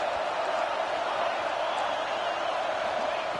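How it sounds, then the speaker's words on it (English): Stadium crowd at an LSU versus Tennessee college football game roars steadily and loudly in the red zone, a dense, continuous wall of cheering with no breaks. "And here comes the noise. This crowd is trying to inspire this defense to make a big red zone stop."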